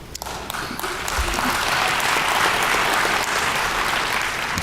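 A conference audience applauds at a closing session, clapping swelling in after a brief pause into sustained, dense applause filling a large room.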